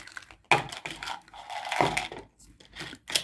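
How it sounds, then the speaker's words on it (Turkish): Close-up crinkling and snipping as plastic packaging is cut and handled, with sharp crackles and short rustling bursts in irregular succession. "Hemen makas devreye giriyor."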